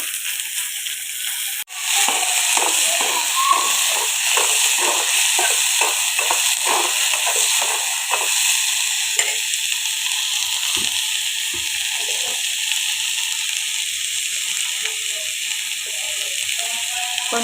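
Onions and turkey berries frying in hot oil with popped mustard seeds, giving a steady close sizzle with crackles and a few stirring scrapes throughout.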